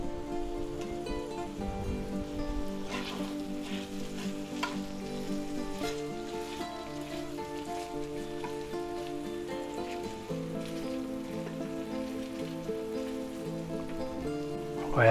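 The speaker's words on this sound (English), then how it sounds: "Let's stir fry that in there." Ginger with pheasant and quail sizzles steadily in a hot stir-fry, a continuous close crackle and hiss with occasional stirring scrapes and no talking.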